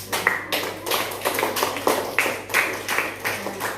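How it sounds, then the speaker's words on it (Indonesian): Small classroom group clapping for group 3, a loose scatter of hand claps lasting several seconds with a faint teacher's voice in the background. "Tepuk tangan untuk kelompok 3"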